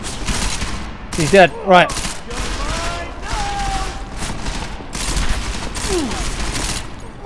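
Gunfire in the Deus Ex: Mankind Divided video game, a dense fusillade of shots with loud bursts, running under a man's spoken reactions.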